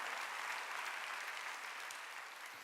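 A church congregation during a sermon claps together in a brief, even burst of applause, fairly faint and distant, with no talking over it.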